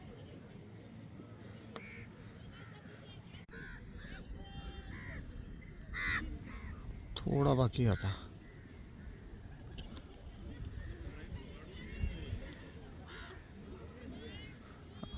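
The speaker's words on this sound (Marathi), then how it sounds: "ते कावळे जास्त इथे" Several crows caw outdoors by the Gangapur Dam in the evening, with a louder burst of cawing midway, over soft ambient noise and a few quiet spoken words.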